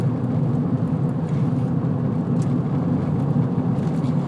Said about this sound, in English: this is a very, very, very, very loud road